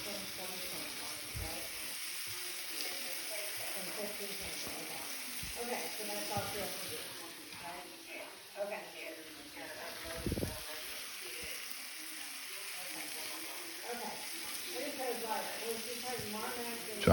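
Mushrooms and apples sizzle and fry in a pan with rendered chopped bacon for pheasant, a steady close crackle throughout, with a few stirring clatters and occasional speech over it.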